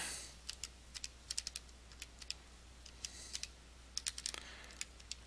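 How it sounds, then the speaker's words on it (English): Quick, light key presses on a calculator while entering a square-root division problem, a scattered run of soft taps over a quiet room, fairly close and faint. "And type this into my calculator here."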